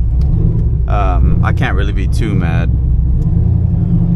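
A cammed Chevrolet Camaro engine idles with a steady low rumble throughout, close and constant beneath a man's speech.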